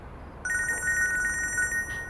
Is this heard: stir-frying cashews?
no